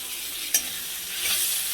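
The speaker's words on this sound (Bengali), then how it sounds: "এবার বেটে রেখেছি আদা রসুন কাঁচা লঙ্কা, এটা দিয়ে দেবো।" A paste of ground ginger, garlic and green chili hits hot oil over fried onions in a pan. A steady close sizzle swells briefly, with a single quick scrape of a stirring spoon early on.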